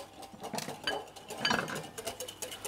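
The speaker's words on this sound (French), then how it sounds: "Je mélange bien au fouet." A whisk beating an egg and sugar mixture in a bowl, quick irregular clinks and scrapes of metal against the bowl, fairly quiet and close, no voices.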